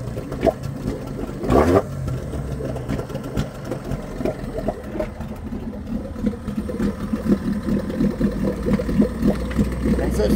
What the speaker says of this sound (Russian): Друзья, слышите, в холостую должен проработать, выработать весь бензин